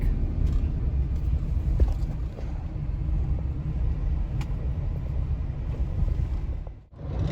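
Steady low road rumble from a car cruising along Texas highways between Waco and Dinosaur Valley State Park, continuous and close throughout with a brief dip near the end.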